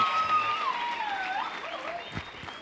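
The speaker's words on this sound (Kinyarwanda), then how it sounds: "Ladies and gentlemen, put your hands together for Muhinde" An audience at a stand-up comedy show applauds comedian Muhinde, giving fairly quiet, continuous clapping with a thin wavering tone running over it.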